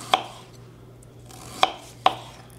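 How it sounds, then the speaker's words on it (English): Three sharp knife chops of mushrooms on a cutting board, one early and two close together near the end, crisp and close over a low steady hum. "we're going to slice this up some mushrooms"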